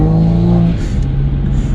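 Toyota Supra A90 fitted with a Pedal Commander, its engine droning loud and close under light throttle from a stop, a low steady hum with a tone that shifts slightly partway through.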